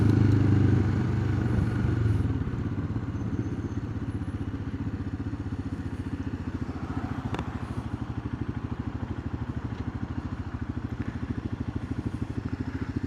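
A Royal Enfield Himalayan motorcycle idles steadily close by, its single-cylinder engine giving a fast, even pulsing thump for the whole stretch, with a heavier rumble at the start and faint street noise behind.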